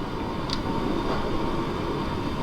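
Train running in the Train Sim World 2 Island Line route, a steady loud rumbling drone of wheels and motor throughout, with one brief higher squeal early on.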